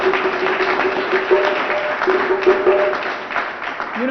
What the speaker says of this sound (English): let's give Alderwoman Cox another big round of applause for her